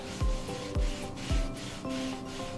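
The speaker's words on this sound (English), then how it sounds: "Black microfiber cloth and just kind of gently go over that." A black microfiber cloth rubs over a chalk paste transfer in a few gentle passes, each marked by a soft thump and then a close, dry rubbing swish.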